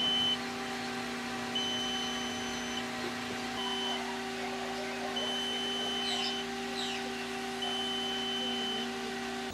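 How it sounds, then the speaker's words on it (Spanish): A solar-powered egg incubator gives off its alarm, short high-pitched electronic beeps repeating at irregular intervals over a steady low mechanical hum, fairly close and clear. "las alarmas de tiempo cuando ésta automáticamente hace el volteo de los huevos"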